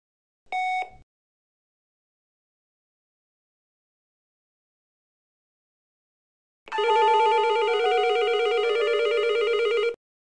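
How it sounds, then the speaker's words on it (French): Door intercom ringing signals sound while a TC:Bus system with a BVS20 control unit is being programmed: one short tone burst near the start, then after a long silence a sustained, loud multi-tone ring lasting about three seconds. "Appuyez maintenant sur le bouton de sonnerie déjà attribué à la première station intérieure et ne le relâchez qu'après le 3e signal."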